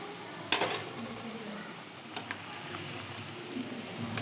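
Poori frying in hot oil, a soft steady sizzle with a few sharp clinks of a utensil against the pan, close and fairly quiet, with no talking.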